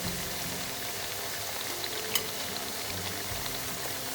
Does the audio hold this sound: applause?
no